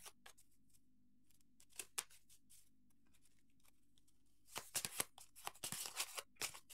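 Oracle cards are shuffled by hand in quiet, scattered riffles and slides, growing denser and louder in the second half. No voice is heard.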